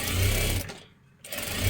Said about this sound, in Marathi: आता परत एकदा डबल शिलाई देऊन घ्या.